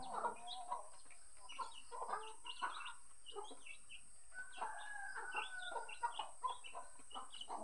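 Hens cluck in short bursts while a rooster crows partway through, with steady farmyard background hiss and no talking.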